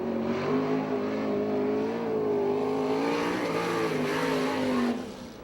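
USAC/CRA sprint car, the No. 19 sponsored by Decor Plating, lapping a dirt oval at Alger, Washington; a loud, steady engine drone with wavering pitch sustains throughout, then fades slightly at the end.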